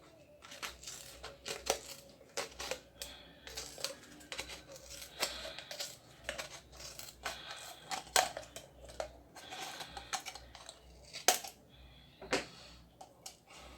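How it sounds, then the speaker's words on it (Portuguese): Scissors cut through a reused plastic bottle along a marked line, giving repeated crisp snips and crinkling plastic crackles at an irregular pace, close and moderately quiet, with no talk. "Agora eu vou cortar, seguindo a linha, né, referência que a gente tem de corte."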